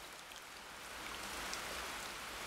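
Steady rain in the Minecraft video game, a soft even hiss of falling drops that holds for the whole stretch at a moderate level, with no voices.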